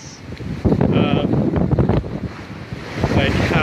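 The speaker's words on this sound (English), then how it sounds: "It's not as noisy as it was just a couple minutes ago with the wind and the waves" Wind and ocean surf on Cape May beach at the southern tip of New Jersey, a steady broadband roar with gusting swells throughout and some brief voice-like sounds mixed in.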